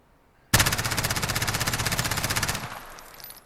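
A sudden two-second burst of rapid automatic fire from an MP9 machine pistol in Call of Duty Modern Warfare, each shot distinct in a fast even rhythm, loud and close, cutting off into a short fading echo.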